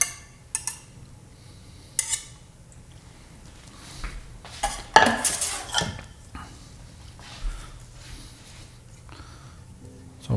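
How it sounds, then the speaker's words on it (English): A rubber spatula scrapes homemade red enchilada sauce from a container into a bowl: soft rubbing strokes, light clicks and a few knocks against the dish, close up and without talk. "make sure you always use your rubber spatula to grab every little bit of it out"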